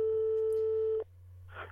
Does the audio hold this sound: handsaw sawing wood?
no